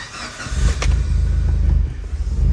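Car engine cranked with the key and catching, a close, loud low rumble that rises briefly then settles into a steady idle, with no one talking.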